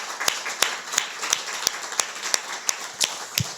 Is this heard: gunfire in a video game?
no